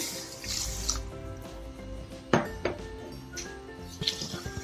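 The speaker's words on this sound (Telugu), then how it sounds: "ములిగేదాకా నీళ్ళు పోసుకుని" Water is poured into a bowl of millets soaking for dosa batter, soft splashing and trickling with a few light clinks of a dish, fairly quiet.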